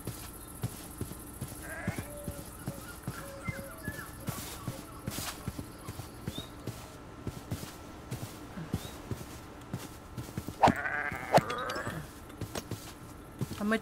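Sheep bleats in Minecraft, a few short faint calls over a quiet game soundscape of steady footstep-like clicks and tapping, with a brief louder burst near the end.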